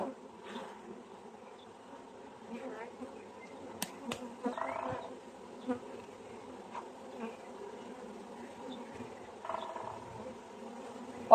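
Honeybees shaken into a hive box buzz in a low, continuous drone, a faint, steady hum close by with occasional louder swells and soft knocks.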